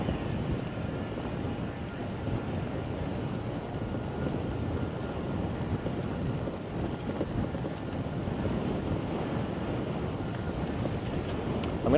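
Steady broadband roar of headwind buffeting a microphone while cycling on a solar bike tour in Muhu, Estonia, loud and continuous for the whole stretch with no talk.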